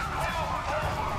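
A police car siren wails in the video game GTA 5, a brief continuous warbling tone with engine noise beneath, fairly close and steady.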